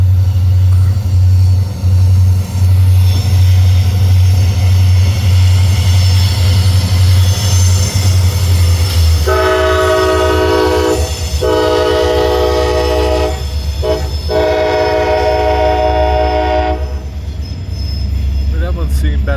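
Conrail freight train CA-11 running northbound near Woodbury, New Jersey, rumbles loudly past with rail noise throughout, then sounds its horn in several long blasts partway through.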